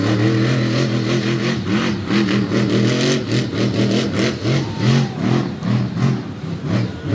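A big, loud monster truck engine roars and revs continuously, its pitch rising and falling in repeated surges close by, during a freestyle run at a fairground in Bloomsburg, Pennsylvania.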